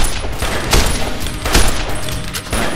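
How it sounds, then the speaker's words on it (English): Varmint rifle fire in a video game, a few loud sharp reports spaced roughly every three-quarters of a second over a dense, noisy backdrop, close and with no talking. "if I'm lucky I can get a sneak attack off with my varmint rifle"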